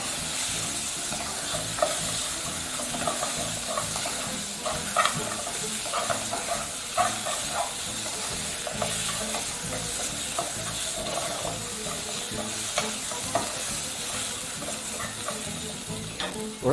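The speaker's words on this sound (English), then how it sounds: "we're just going to allow the meat to continue browning for a few minutes" Meat browning in a hot pot for githeri, a steady close sizzle and hiss with occasional stirring scrapes and clicks, continuous throughout with no talking.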